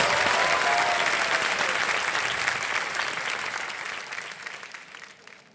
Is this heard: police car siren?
no